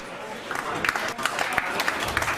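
Snooker crowd at a Great Southern Knockout match applauding a pot of the black, a steady patter of clapping with sharper individual claps rising through it, overlapped by a commentator talking.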